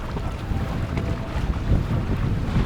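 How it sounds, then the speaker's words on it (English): Strong wind buffets the microphone aboard a felucca cruising the Nile near Aswan, a steady roaring rush with low gusty rumbles and faint water motion beneath, no speech. "Here in the middle there's always a really tough wind going on."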